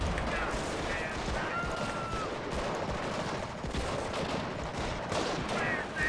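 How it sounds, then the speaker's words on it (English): Machine gun suppressive fire in Company of Heroes, Battle of the Bulge, Europe at War mod: dense continuous bursts of automatic gunfire with other shots mixed in, steady and loud, under a player's voice. "I'm gonna lay down and offer some suppressive fire."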